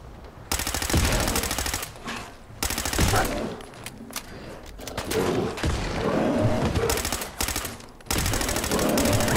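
Fallout 4 weapon fire, loud bursts of rapid automatic gunshots broken by short pauses, close and dominant, with a player's voice speaking in German between volleys.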